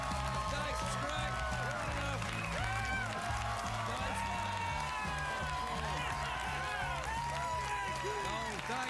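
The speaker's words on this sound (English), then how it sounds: "let your applause die away quite naturally, as if it were real" A late-night television studio audience claps and cheers loudly and continuously, a dense roar of applause with whoops and shouting voices throughout.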